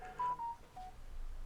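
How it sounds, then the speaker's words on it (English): A mobile phone rings indoors during a screen-recorded coding session, giving a brief electronic tone pattern that is quiet and short, with no talk over it. "apparently I didn't mute my phone."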